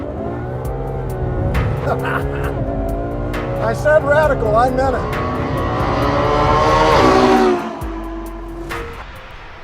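The front-mounted V12 of a 2014 Ferrari F12 Berlinetta revs and climbs in pitch to a loud, sustained peak, then drops off sharply. Someone talks over the engine.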